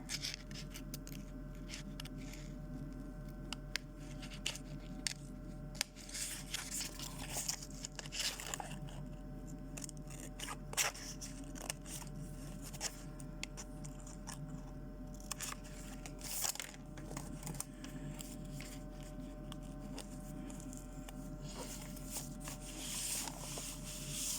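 Scissors cut around sketchbook pages holding a butterfly drawing, producing quiet irregular snips and papery rustles with frequent short crisp clicks, close and faint over a low steady hum, with no talking.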